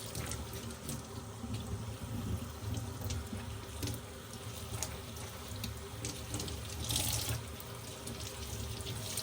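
Steady running water from a tap splashes into a sink as a tie-dye shirt is rinsed, a continuous broad rush with small fluctuations and no talk.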